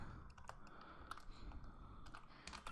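Steady, quick clicking of a computer keyboard as Python code is typed, close and fairly quiet, with irregular bursts of keystrokes and no talking.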